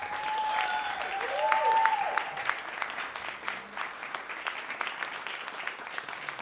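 An audience at an open stage show applauds, a steady wash of clapping with a few whistles early, fading slightly toward the end.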